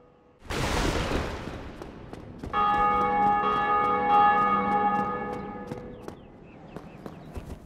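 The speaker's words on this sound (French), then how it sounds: "En vous baladant autour de la zone du Hunted Parish, vous entendrez sûrement la cloche sonner." Bell of Awakening in the Undead Parish area of Dark Souls, ringing out with a sustained metallic peal that lingers and slowly fades, preceded by a brief rough noisy burst.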